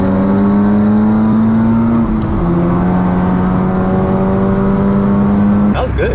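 500 hp Golf GTI accelerating hard on a race run, a loud rising engine drone with a gear change partway through, close and continuous, ending with an abrupt burst of noise.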